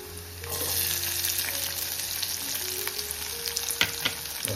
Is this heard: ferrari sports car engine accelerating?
no